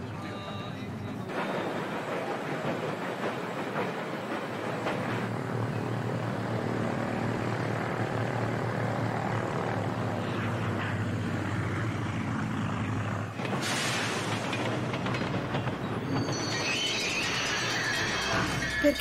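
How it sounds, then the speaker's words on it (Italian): Warplanes approaching during the Spanish Civil War, a steady droning propeller engine roar that swells and holds loud, with a sudden shift and higher whine near the end. "Aerei!"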